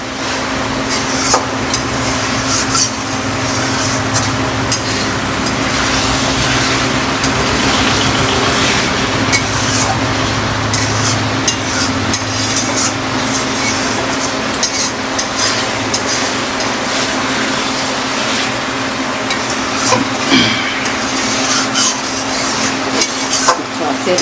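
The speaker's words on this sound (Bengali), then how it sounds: "এখন খুব সুন্দর করে ভালো করে কষিয়ে নেওয়া হচ্ছে মাংসটা" Chicken being stirred and sautéed in a pan for Bengali chicken kosha, a continuous loud sizzle with steady scraping of the spatula against the pan throughout, a voice faintly underneath.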